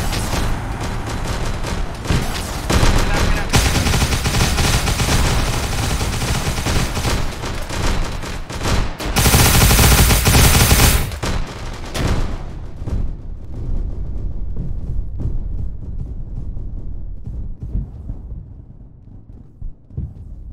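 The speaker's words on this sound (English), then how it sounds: "They're shooting at us." Heavy battlefield gunfire in the ARMA 3 Warhammer 40k mod, dense volleys and booming blasts rolling loud and continuous before thinning into scattered distant shots.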